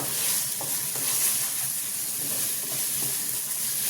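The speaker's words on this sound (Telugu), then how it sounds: "చూడండి ఎంత బాగా వేగుతుందో. ఇలా వేగాలండి." Ginger and onion fry in a pan for a netthalla pulusu, making a constant close hiss and sizzle with faint stirring taps and no voices.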